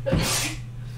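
A single sharp human sneeze, close and loud, followed by a brief fading breath, with a steady low hum underneath.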